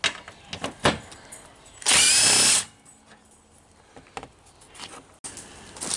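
A power tool whirs in one short, loud burst while removing a front bumper bolt on a Toyota Camry, surrounded by quieter clanks and handling noises.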